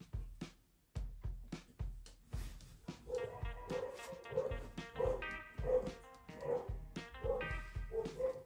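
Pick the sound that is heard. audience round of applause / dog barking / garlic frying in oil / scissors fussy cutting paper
dog barking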